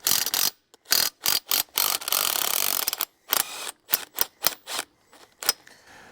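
Ratchet turning the bolt on a quick coupler fitted to a Chinese excavator, giving a close, crisp series of clicking ratchet strokes in an irregular rhythm with short pauses between pulls.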